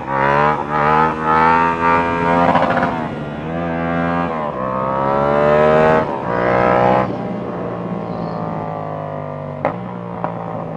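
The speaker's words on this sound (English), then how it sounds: "Very easy to power wheelie in first." A motorcycle engine revs hard through first gear during a power wheelie, loud and close, with a rising, strongly harmonic tone that climbs and drops in several surges before settling to a steadier drone.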